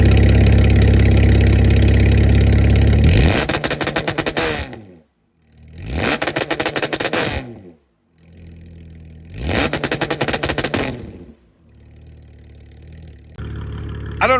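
An Audi B8.5 S with an ARMYTRIX valved catback exhaust, valves open and tuned by 034 Motorsports, holds a loud, deep idle and then gives three separate rev blips with brief near-silent gaps, followed by a quieter idle rumble.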